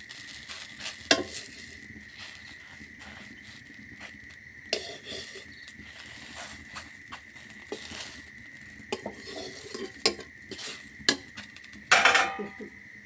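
Grated coconut filling with ghee fries in oil in a pan, a soft continuous sizzle under repeated stirring scrapes and metallic clinks of a spatula, close by, with a sharper clatter near the end.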